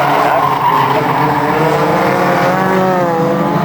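Banger racing cars at an oval raceway pulling away at the start of a team race, a loud continuous mass of engines with squealing, skidding tyres throughout.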